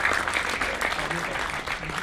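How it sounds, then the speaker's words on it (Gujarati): An audience at a film cast event claps in dense, steady applause for the whole short stretch, with faint voices mixed underneath. "પ્લીઝ જોરદાર તાળીઓ સાથે"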